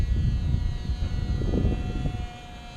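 A 1/2A Herr Cloud Ranger model airplane with an AP .061 engine buzzes overhead in a breezy sky, a steady high whine with rough, gusty wind rumble underneath that eases off toward the end.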